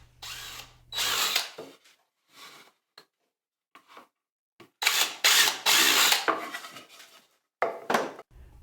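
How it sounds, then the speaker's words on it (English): A power drill boring pilot holes in wood whirs in short bursts, several spaced runs of a few seconds each, close and loud, with quiet gaps between. "Here he is just drilling the pilot holes."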